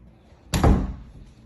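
An interior door in a house swings open with a single sharp thud and a brief rumbling rattle, close and fairly loud against a quiet room.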